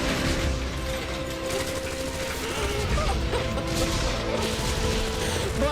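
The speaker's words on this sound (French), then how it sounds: "Juste après ce jingle angoissant et ce bruit d'explosion tout à fait à propos." Explosion sound effect following a tense radio news jingle on a French comedy broadcast: a dense, loud, continuous rumble with crackling bursts fills the whole stretch, with no speech over it.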